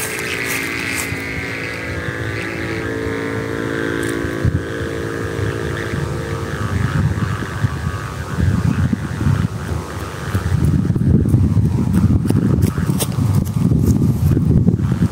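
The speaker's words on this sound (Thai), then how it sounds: "เดี๋ยวเราต้องเอาแอกลงมาปรับใหม่นะครับเสียงมันรู้สึกว่าไม่ค่อยโอเคเท่าไหร่" Humming bow on a giant purple Thai buffalo kite flying outdoors gives a steady droning, harmonic hum, gradually buried under heavy wind buffeting and low rumble that grows louder toward the end.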